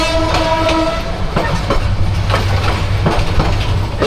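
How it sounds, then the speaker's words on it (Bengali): The Burimari Express pulls out of the station on its run from Rangpur toward Santahar, its horn sounding over a steady loud rumble of railcars and rhythmic clickety-clack of wheels, heard close from on board. "ফাইনালি আমাদের ট্রেন ছেড়ে দিল"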